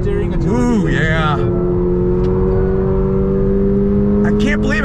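A 2022 Toyota GR 86 sports car accelerates hard on a race track, its engine note rising and holding steady as it pulls through the revs, close and loud, with people talking over it at the start.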